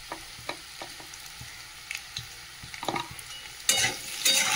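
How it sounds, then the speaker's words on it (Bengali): Papaya and potato pieces frying in hot oil and being stirred, with spatula scrapes and clicks over a steady sizzle that grows louder and denser toward the end, close up with no talking. "এই দেখো পেঁপে আলু তো ভালো করে তেলের মধ্যে ভেজে নিলাম।"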